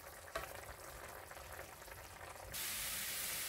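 Pork for Ginataang Pork fries in a pan after being boiled soft, a steady close sizzle and crackle. Near the end the hiss swells louder and brighter.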